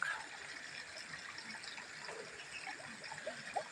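Water runs and trickles steadily as it is poured into a pipe to prime a water pump at a house under construction, a continuous close splashing flow with no talk.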